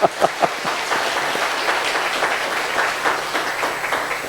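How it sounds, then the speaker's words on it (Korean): Applause from a church congregation: a few sharp claps at the start, then dense, steady clapping that continues throughout. "우리 하나님께 영광의 박수를 올려드리겠습니다"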